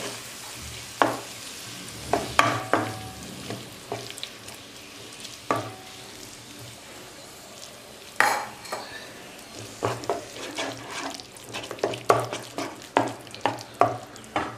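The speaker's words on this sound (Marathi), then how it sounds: "जे आता हे स्मॅश करून घेतलेलं वांग होतं हेही यात टाकून घेणार आहोत सगळं छान मिक्स करून घ्यायचंय आहे" Mashed eggplant is stirred into a frying pan for Khandeshi-style bharit: a low sizzle under repeated spatula scrapes and clinks against the pan, growing busier and more frequent toward the end.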